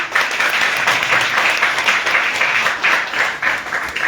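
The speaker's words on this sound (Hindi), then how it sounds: "प्लीज इनके लिए एक बार तालियां हो जाए।" Enthusiastic audience clapping at a Vestige marketing plan presentation, a full, steady roar of many hands with slight swells, loud and alone without speech.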